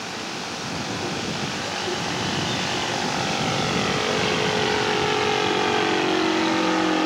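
A radio-controlled model airplane from a kit passes in a slow flyby, its small engine or propeller a steady drone that slowly grows louder over several seconds, heard alone without talk.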